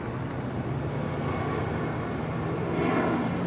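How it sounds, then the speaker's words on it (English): American Airlines Boeing 737-800 arriving at Los Angeles International Airport from Chicago O'Hare, a steady broad jet engine roar that holds constant and swells slightly near the end, with no talk. "Coming in from Chicago O'Hare, American Airlines flight 516 in the 737-800."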